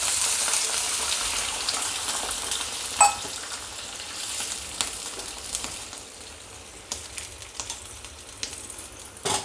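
A little water splashes into spiced masala frying in a pan for an egg korma, setting off a loud hiss that slowly dies back into a steady, crackling sizzle with scattered pops.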